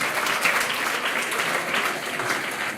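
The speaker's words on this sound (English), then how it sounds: "Let's give them a better clap." A crowd claps at a grade 6 graduation, a steady, moderately loud patter of many hands lasting the whole moment with no voices.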